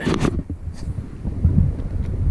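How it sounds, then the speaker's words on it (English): Gusting wind roars across the microphone on Red Lake in the Virginia Lakes area during tube-jig fishing, a loud, continuous buffeting rumble that surges and dips with no voices. "Fishing these tube jigs in this gusting wind is a challenge"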